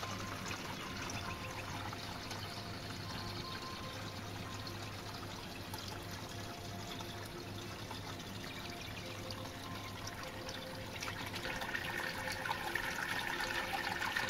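Steady flow of water pouring and trickling as 10 litres are drained from a 30-litre shrimp nano aquarium, continuous and close, with a low hum underneath; the flow grows slightly louder near the end.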